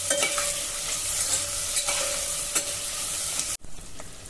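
Onion sautés in a pan with a dense, continuous sizzle and light stirring scrapes, close and even, cut off abruptly near the end before a fainter sizzle resumes.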